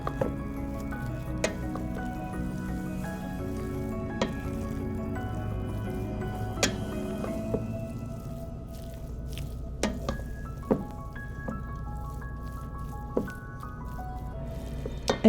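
Tofu tuna macaroni salad being mixed in a bowl gives soft, wet squishing and sticky stirring sounds, with occasional sharper clicks of the utensil against the bowl, fairly quiet and without talk.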